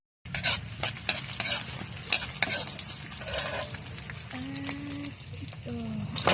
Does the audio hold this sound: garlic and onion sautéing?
yes